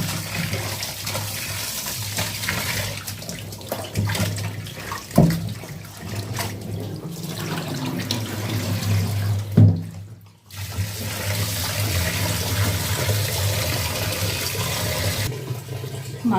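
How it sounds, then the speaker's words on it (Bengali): Tap water runs steadily over raw meat being washed in a kitchen sink, a continuous close splashing stream with a couple of brief sharper splashes and handling noises partway through. "এবার মাংসগুলো ধুয়ে নিই।"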